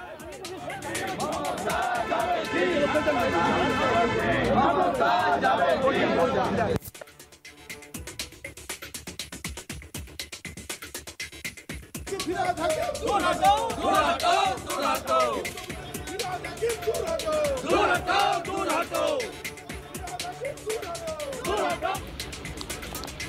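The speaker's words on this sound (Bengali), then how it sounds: "ঘটনার প্রতিবাদে স্লোগান তোলেন বিজেপি বিধায়করা" BJP legislators chant slogans in a state legislative assembly, a loud group of voices shouting together in bursts with a brief lull before the chanting resumes, mixed with a reporter's narration.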